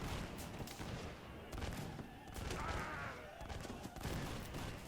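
Musket volley fire in a Napoleonic-era battle video game, with British infantry lines shooting amid cavalry; dense, overlapping crackling shots roll on continuously at moderate distance, with a faint voice underneath.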